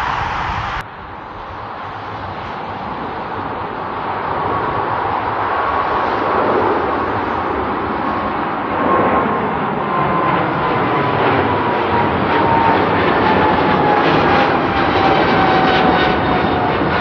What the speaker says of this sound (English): A lot of background noise, a lot of wind, and that's the internal microphone.